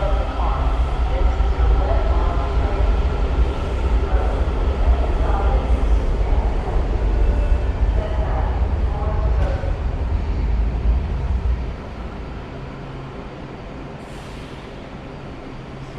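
A Washington, D.C. metro train bound for suburban Maryland rumbles loudly along the tracks, a steady low roar that drops to a quieter hum near the end, with faint hiss and clatter.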